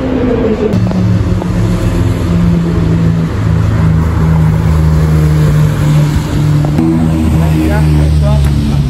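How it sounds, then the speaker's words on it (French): An Audi TT engine rumbles and revs loudly nearby at the Le Mans circuit, its pitch rising and falling in steady surges, with a voice talking over it. "Le moteur de cette Audi TT est énervé."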